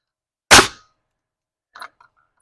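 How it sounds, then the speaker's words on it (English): A pneumatic nail gun fires into wood on a cordwood and cedar building job, one loud close crack followed by a faint clatter and a tiny tick. "I never use a nail gun without the glasses"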